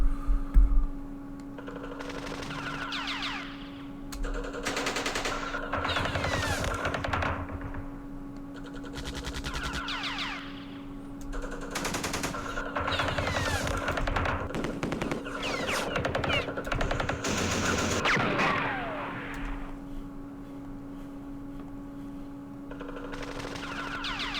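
Game gunfire in the Vietnam wargame Campaign Series Vietnam, a Dien Bien Phu scenario, with bursts of machine-gun-like firing and scattered shots recurring across the stretch over a steady background hum, moderately loud.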